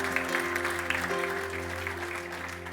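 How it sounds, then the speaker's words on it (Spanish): A church congregation applauds for a few seconds, a dense, even patter of clapping with soft music held underneath. "Dale ese fuerte aplauso a Cristo Jesús"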